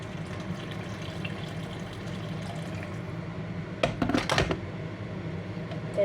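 Water is poured into a pan of half-cooked vegetables for a sweet and sour chicken dish, a short splashing burst near the end over a low, steady background hum, with no talking.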